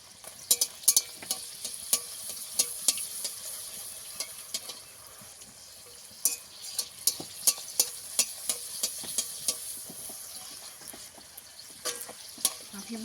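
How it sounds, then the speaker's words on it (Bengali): Fuchka (panipuri) puris fry in oil, puffing up with a soft bubbling sizzle broken by repeated sharp taps and scrapes of a utensil at an uneven rhythm, close by and with no talk. "এবারে ভালো করে ভেজে নেবো ফুচকাগুলোকে একটু লাল করে"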